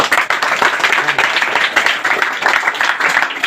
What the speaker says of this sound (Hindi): इनके लिए भी ताली हो जाए।